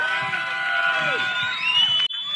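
A crowd at an outdoor festival campground in Michigan whoops and cheers after a political speech, with bright overlapping shouts and whistles, close and loud, breaking off abruptly near the end.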